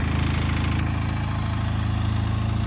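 A small tractor engine running at a steady idle, loud and close, with a continuous low throbbing drone and no voices.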